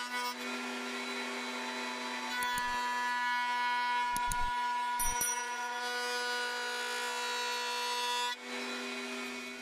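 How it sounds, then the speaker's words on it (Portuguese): Woodworking shop cut on leftover wood scraps, a steady high whining band saw hum broken by a few short bursts of cutting, then a router flush trimming the remainder. "cortei a maior parte na serra de fita e o restante foi aparado rente na tupia"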